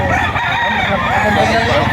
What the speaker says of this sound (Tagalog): Yan mga bossing, napakarami manok.